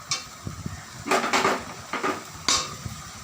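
A utensil stirring taro stolons (kochur loti) with a little added water in a pot, giving several clanking, scraping strokes in uneven bursts, close and fairly clear.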